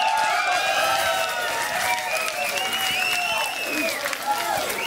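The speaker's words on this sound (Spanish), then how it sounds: "un aplauso para Laura Galván" Studio audience applause on a Mexican celebrity-impersonator talk show, welcoming guest Laura Galván, a steady dense wash of clapping with some cheering over background music.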